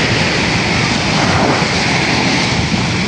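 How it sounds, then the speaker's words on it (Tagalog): A motor boat (bangka) engine gives a steady, loud, broadband roar on a hot day by the water. It holds unchanged throughout, with no voices. "may naririnig na po tayong bangka"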